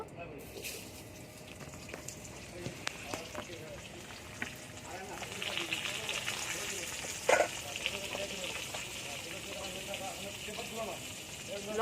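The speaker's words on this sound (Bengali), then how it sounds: "একই তেলে আলুগুলো ভেজে নেব" Potatoes fry in oil with a steady, soft sizzle, crackling quietly throughout, with small pops and stirring clinks scattered over it.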